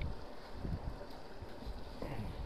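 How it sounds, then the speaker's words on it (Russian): Strong wind gusts outdoors beside a small stream, heard as a continuous, buffeting low roar that batters the microphone throughout. "И сегодня ветрище такой."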